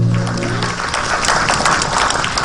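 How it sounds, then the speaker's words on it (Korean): Applause from an audience at a middle school in Changsha, China, after a children's performance, a dense wash of clapping that starts under a fading musical note and continues steadily. "뜨거운 박수로 중국 아이들의 공연이 끝나고"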